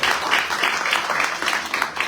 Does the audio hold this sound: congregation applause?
yes